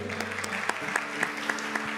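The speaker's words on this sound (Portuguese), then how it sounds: "Vamos dar uma salva de palmas para ele." An audience applauds at a Catholic preaching event, with a short burst of clapping carrying a few sharper, rhythmic clap accents over a steady low hum.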